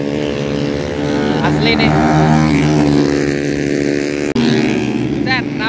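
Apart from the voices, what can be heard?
motorcycles practising on a race circuit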